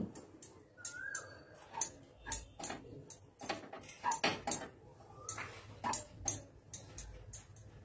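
Raw rice being stirred constantly in a pan over a medium-low flame, a run of sharp, irregular scraping clicks and taps of the spatula against the pan, fairly quiet and close, with no talking.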